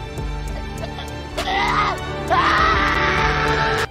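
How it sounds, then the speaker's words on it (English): Ominous screaming of a man falling, from a dramatic anime scene: a loud, wavering scream that swells in two long bursts over a deep, droning musical score with rhythmic ticking. "Commence ominous screaming."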